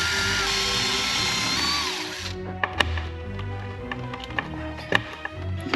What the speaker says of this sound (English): Why don't we drill these holes and then just see where we're at.